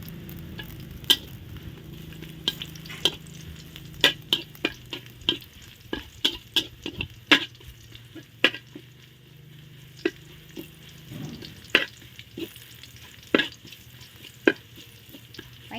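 Garlic stir-fries in a pan over a gas flame, a soft sizzle under frequent crisp clicks and scrapes of a spatula against the pan, irregular and close, with no talking.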